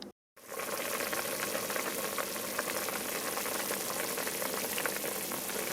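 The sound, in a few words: lentil soup with water heating toward boil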